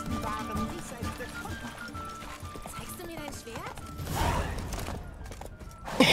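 Hollow clip-clop of a horse's hooves trotting steadily in The Witcher 3: Wild Hunt, with game-style clatter and a burst of louder noise near the end.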